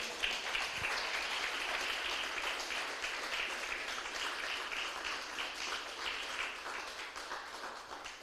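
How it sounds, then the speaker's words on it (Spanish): A church congregation applauds in a faint, distant-sounding wash of sustained clapping that holds steady for about eight seconds. "Denle un fuerte aplauso al Rey, aleluya"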